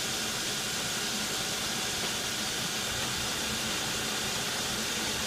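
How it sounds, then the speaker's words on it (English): A lathe turns slowly at 47 RPM while broaching a 6 mm keyway, giving a dense, continuous hissing machine noise that holds steady and loud throughout with no voices. "I'm gonna broach it in the lathe. Make a broaching tool and just broach it out."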